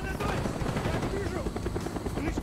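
Helicopter in the war shooter Call of Duty: Black Ops, a loud continuous rotor roar filling the scene, with voices talking over it amid combat noise.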